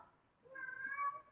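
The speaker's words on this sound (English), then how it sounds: "that is my cat." A pet cat gives one drawn-out, rising meow, quiet and a little distant, in a still room with no talking.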